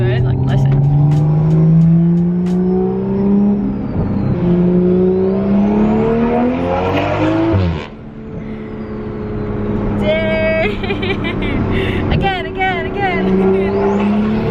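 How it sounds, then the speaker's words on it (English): Subaru WRX STI fitted with a downpipe, intake and T51R turbo housing mod, its engine droning and rising in pitch through revs, loud and close, with a brief dip mid-way and turbo whistles and chirps near the end. "It sounds so good, like listen."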